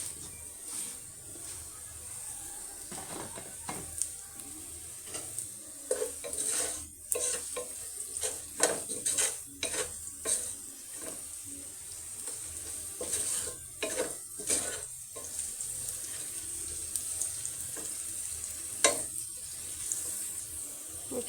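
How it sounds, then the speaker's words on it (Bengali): Onions frying with salt in a pan, stirred with repeated scraping strokes over a steady sizzle, fairly close and without talk. "এখানে আমার পেঁয়াজ ভাজা হয়ে গেছে।"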